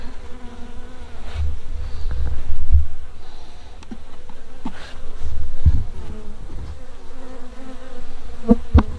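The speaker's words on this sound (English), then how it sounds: "So this is a very active hive." Honeybees swarm and buzz steadily across an open, very active hive with honeycomb and brood cells, a dense close drone with occasional louder passes of individual bees near the ear.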